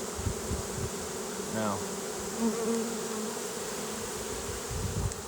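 Bees from a swarm drone in a dense, continuous buzz close to the microphone, with a brief spoken word and light outdoor background noise.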